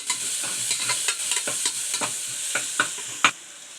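Tomatoes sauté in a pan for vegetable rice, a steady sizzle punctuated by a rapid series of rhythmic spoon scrapes and taps from close stirring, ending with one sharper knock.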